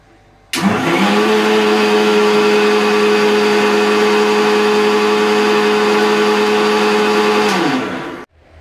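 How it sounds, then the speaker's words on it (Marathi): A kitchen mixer grinder churns cream with ice into butter, a steady loud whir that starts abruptly, holds at an even pitch for about seven seconds, then winds down and stops. "नेहमी तूप काढून बनवून घेते आणि बर्फ टाकून मी मिक्सरला फिरवून घेते"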